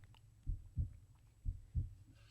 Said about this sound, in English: Ooh, that's a heartbeat.